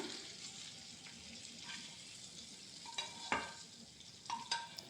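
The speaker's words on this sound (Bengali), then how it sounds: "এবার দিয়ে দেব সটে করা ক্যাপসিকাম ও পেঁয়াজটা" Sautéed capsicum and onion being stirred into sesame chicken in a pan, giving a soft, steady sizzle with a few sharp utensil scrapes and clinks near the end.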